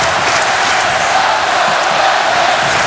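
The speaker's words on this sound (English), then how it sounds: "Listen to this crowd. Holy smoke." Hockey arena crowd roaring at an NHL game between the Boston Bruins and Detroit Red Wings, a dense, loud, continuous wall of cheering with no break.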